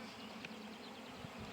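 A soft, steady buzz of honey bees on a hive frame in a queen-rearing cell builder, constant low drone with faint individual wing hums, no voices.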